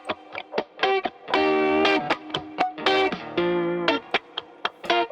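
An electric guitar plays through a neural amp model capture of an old 488 amp, giving a distorted, gritty tone. Short choppy chord stabs and single notes alternate with a few longer sustained chords, and no one speaks.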